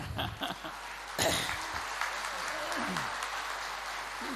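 Audience applause at a college poetry mushaira in Madras, a burst of clapping that swells sharply after a quiet start and then continues steadily, with voices in the crowd underneath.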